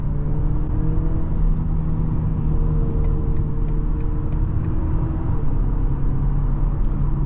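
A 2023 BMW X4 30i in Sport Plus mode is held at high RPM, giving a loud, steady engine drone and rumble heard from inside the cabin, with no talk.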